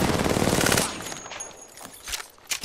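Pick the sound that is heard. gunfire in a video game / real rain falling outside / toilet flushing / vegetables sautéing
gunfire in a video game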